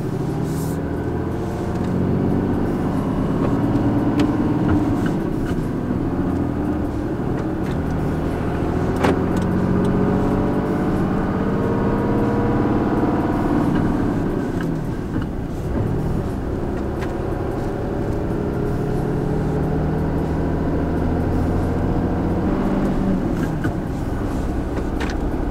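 Truck hauling a tractor on a trailer, engine droning steadily and loudly from inside the cab, with rising and falling pitch as it shifts through gears over about twenty-five seconds.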